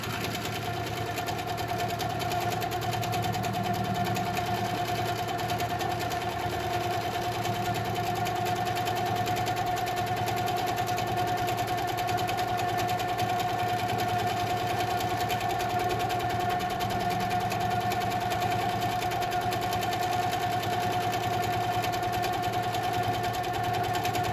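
A sewing machine free-motion quilting a pebble pattern runs steadily and continuously, a close, even, buzzing motor whir with a fast needle rhythm and no pauses.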